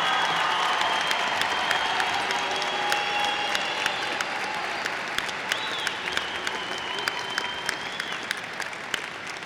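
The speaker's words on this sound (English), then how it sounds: "Please give a round of applause to the class of 2019." Sustained applause from a large crowd greets the graduating class of 2019 at a high school commencement, a dense, even wash of clapping that holds steady for the whole stretch.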